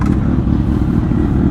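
A group of motorcycles, including a Benelli TRK 502X, rides together with mixed engines and displacements, producing a loud, close, rumbling drone with wind buffeting.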